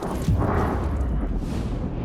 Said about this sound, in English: I think that's a bit close for the explosion